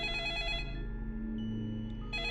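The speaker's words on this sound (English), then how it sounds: "A sudden ringing on the phone startled everyone in the room." A telephone rings with a bright electronic trill, pauses, then starts ringing again at the end. A low steady hum sits underneath.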